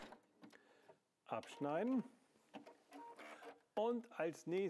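A W6 N 5000 Exklusive sewing machine hums faintly and mechanically under a person's talking, with pauses between stretches of speech.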